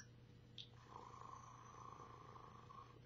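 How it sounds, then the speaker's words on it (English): A soft, steady purr rumbles close by, low and continuous, with a faint higher tone running through it. "You're purring."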